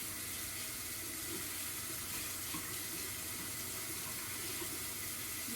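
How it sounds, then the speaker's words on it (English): A spoon rinsed under a running kitchen tap, a faint steady hiss and splash of flowing water throughout with no talking. "I'm going to rinse this off because I don't want that stuff sticking to it."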